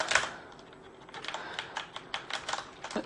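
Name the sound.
typing on Corsair Vengeance K90 mechanical gaming keyboard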